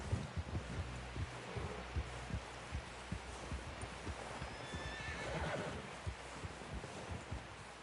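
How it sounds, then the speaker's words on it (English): A horse whinnies amid steady clip-clop hooves in the video game Red Dead Redemption 2, with a rhythmic low thumping throughout; the neigh rises clearly in the middle. "Someone help John down off this horse."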